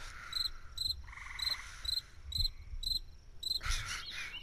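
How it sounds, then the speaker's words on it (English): Insect chirping in a video game, a regular series of short, high, bright chirps repeating about twice a second, with a low rumbling background and a louder burst near the end. "Is there a cricket chirping?"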